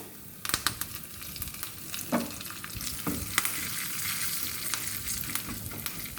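Asafoetida, cashews and curry leaves frying in hot oil for a tempering for semiya dadojanam, a steady sizzle with scattered crackles and stirring scrapes, close and alone with no voices.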